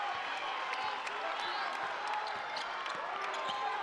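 A home crowd at a basketball game, the last home game of the regular season, gives off a steady, dense roar of cheering with scattered claps and shouts throughout.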